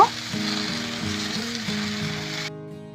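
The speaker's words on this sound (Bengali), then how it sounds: "এবার কেটে রাখা চাল কুমড়ো দিয়ে দিলাম এবার সব কিছু খুব ভালো করে নেড়ে নেব" Chopped ash gourd stir-fried in a pan for a Bengali chal kumro ghonto, with a steady loud sizzle and frying crackle and occasional stirring scrapes, cutting off abruptly near the end.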